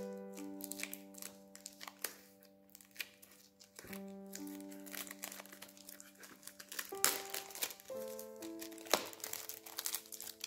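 Packaging on a Lovecraft-inspired tarot card deck box is opened, giving close crinkling and tearing of plastic wrap in repeated bursts over soft background music.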